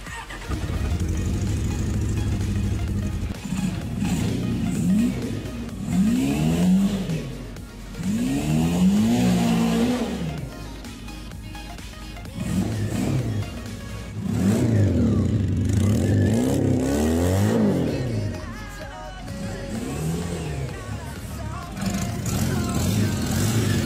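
An old Honda CB400 motorcycle, carburetor primed with starting fluid after years sitting, cranks and catches, its engine revving in repeated rising and falling bursts, fairly close and loud, with brief lulls between revs.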